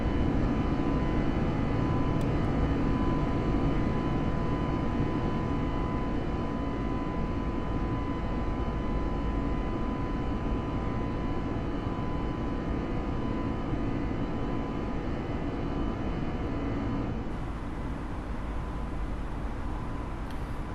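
An A320 airliner departing JFK in Microsoft Flight Simulator, a steady, loud engine roar and rumble that continues for the whole stretch and shifts slightly in tone near the end.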